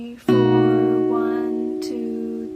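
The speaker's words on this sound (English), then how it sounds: "I play all of the strings at once" Guitar chord strummed across all strings at once, ringing out loud and sustained, then a second strum near the end lets the chord keep decaying, heard alone without talk.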